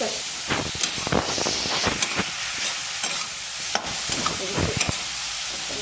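Carrots being roasted and stirred in a pan for a quick gajar custard dessert, with steady sizzling and frying hiss under repeated scraping stir strokes, close and fairly loud throughout.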